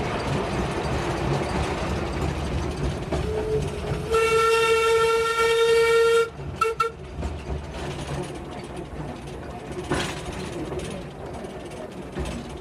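A train on the Festiniog Railway, a former slate-carrying industrial line, rumbles steadily along the rails and sounds its horn in one long blast, then keeps clattering onward.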